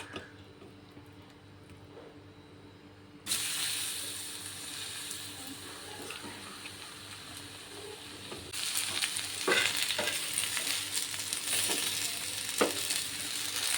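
Jackfruit fritters frying in hot oil in a pan, a steady sizzle that grows louder and brighter partway through, with occasional pops and crackles.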